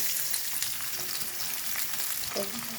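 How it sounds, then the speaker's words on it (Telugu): Cumin, chana dal and chopped onion frying in oil in a pan for cabbage rice, a continuous close sizzle with soft stirring scrapes and a brief clink near the end, no talking. "జీలకర్ర, శనగపప్పు కొంచెం వేగాక కట్ చేసుకున్న ఆనియన్,"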